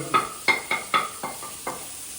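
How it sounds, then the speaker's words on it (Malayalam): Curry being stirred and sautéed with spice powders in a pan, with a series of about seven distinct scraping stir strokes over a soft sizzle, close and moderately loud. "അപ്പോൾ നമ്മളെല്ലാ പൊടികളും ഇട്ട് നമ്മുടെ കറി വഴറ്റിക്കൊണ്ടിരിക്കുകയാണ്"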